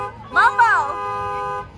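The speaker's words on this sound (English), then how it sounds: "Mumbo, honk the horn." A SWAT truck's horn at a fall festival blares in one loud, wavering toot of about half a second that trails off, while background voices chatter.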